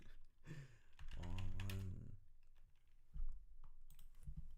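Someone talks briefly, then a burst of quick clicking from a computer keyboard follows, the keystrokes close and fairly soft, typed while playing Lost Ark.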